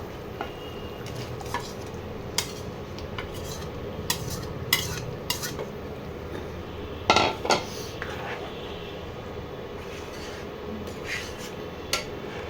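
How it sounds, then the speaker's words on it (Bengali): Eggs and potatoes go into a simmering spiced egg curry, heard as close clinks and scrapes of a utensil against the pot over a soft bubbling sizzle, with a few sharper knocks. "এবার আমি ডিমগুলোকে আস্তে আস্তে ছেড়ে দেবো, ডিম আর আলুকে"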